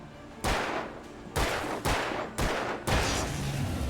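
Rapid gunfire from the video game Alan Wake: six or so loud, sharp shots in an uneven burst, each with a short echoing tail, close and dominant with no talk.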